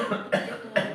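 Two sharp coughs from a man preaching a sermon, close and fairly loud, spaced about half a second apart with a brief quiet gap between them.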